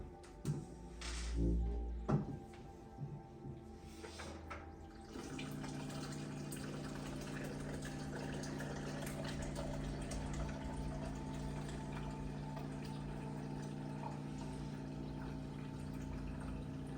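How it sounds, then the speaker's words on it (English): Water pours steadily into a one-gallon jug, a continuous close filling rush that starts after a few seconds of clunks and handling knocks and runs evenly to the end. "I try to fill my water jug daily."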